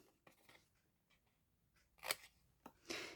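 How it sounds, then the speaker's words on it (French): Scissors cutting cardboard: quiet, sparse snips and crisp cutting sounds, with a few sharper, louder cuts near the end, close and isolated. "Pour ça, je vais prendre ma paire de ciseaux"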